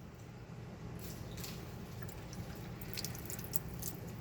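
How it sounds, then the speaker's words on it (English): A glass vial is rinsed under regular tap water at a sink, with steady faint running and dripping water and small splashes close by, no voices. "Take the vial over to the sink, rinse it with regular water."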